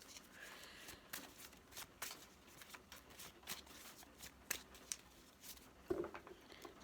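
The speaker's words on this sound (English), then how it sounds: "Just going to give these cards a little shuffle." Soft riffling and flicking of a deck of tarot cards being shuffled close by, quiet irregular bursts of papery slaps and taps.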